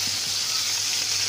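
Onions and green chilies sizzle in a hot pan, a brief, dense, steady hiss that is close and fairly loud, with no talk.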